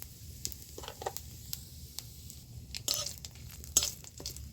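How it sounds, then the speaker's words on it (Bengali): Dry red chilli, a bay leaf and cumin seeds sizzle faintly in hot mustard oil in a kadai, a quiet crackle with a few soft scrapes and pops. "আমি একটু সরষের তেল দিয়ে দিচ্ছি, শুকনো লঙ্কা, একটা তেজপাতা, আর একটু জিরা ফোড়ন দিচ্ছি আমি"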